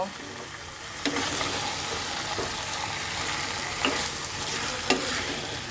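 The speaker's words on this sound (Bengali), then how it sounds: "তো আমি এখন এটাকে সুন্দর করে কষাবো" Chicken curry with green chili and tomato paste fries in a pan, giving a steady close sizzle with a few sharp clinks of a spoon scraping and stirring, and no voices.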